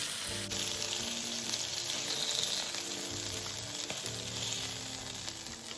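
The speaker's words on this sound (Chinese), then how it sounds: "再倒点油，将剩下的肉块以相同步骤油煎至全部完成" Pork belly pieces pan-fry in oil in a non-stick pan, giving a steady, close sizzle with a busy crackle that stays even throughout, with no talking.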